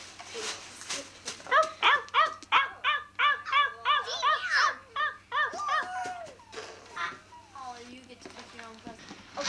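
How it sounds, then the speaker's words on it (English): A Yorkshire Terrier yaps in quick, high-pitched barks and whimpers, close by, while people talk over it at a 1992 Christmas gathering. "It's a Yorkshire Terrier."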